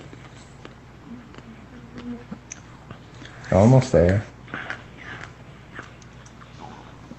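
A child munches on Smarties candy, with soft crunchy chewing sounds that peak in a short burst midway, heard close up under light talking.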